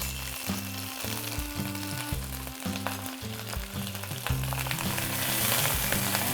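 Lettuce stir-fried with salt and browned garlic in a pan gives a steady, close sizzle that grows louder toward the end, with rhythmic background music underneath.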